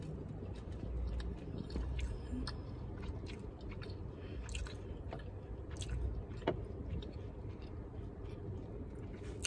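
Someone eats a Zaxby's funnel cake topped with caramel sauce, with soft, close chewing and crunchy bites repeating over several seconds amid quiet background rustle.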